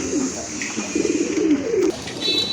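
Soft, throaty pigeon coos repeat in a low rolling rhythm, fairly close, over a steady faint background hiss.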